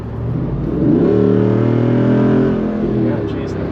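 A 2021 Jeep Wrangler Rubicon 392 V8 engine swells in a loud rev as it downshifts, rising then easing back, heard from inside the cabin with people talking.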